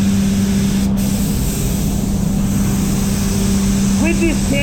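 A spray gun lays candy paint evenly across a Mazda 2 bonnet, giving a steady, loud hiss that runs unbroken throughout, with a low hum of a compressor or booth fan beneath and a faint chirp near the end.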